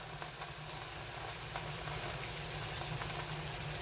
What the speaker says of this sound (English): Our mushrooms are cooking, our sauce is cooking over here.